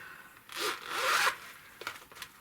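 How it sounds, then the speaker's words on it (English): A zipper is pulled open close by in one long, rasping zip. A few short, fainter zip ticks follow. "Zipper."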